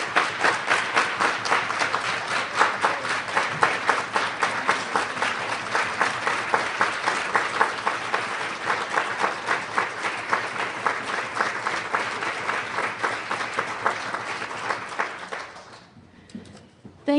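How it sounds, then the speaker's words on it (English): A conference audience at a 2010 P2P afternoon session gives a sustained round of applause, many hands clapping in a dense steady roll for about fifteen seconds before it fades out to near silence. "give her some acknowledgement and a round of applause for all the work that she's"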